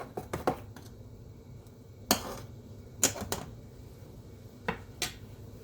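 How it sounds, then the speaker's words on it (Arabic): Qatayif batter being stirred in a metal tea kettle, a handful of sharp metallic clinks and scrapes at irregular intervals, close and fairly quiet over low background hiss. "رح أضل أحرك في الكمية اللي عندي في البريق"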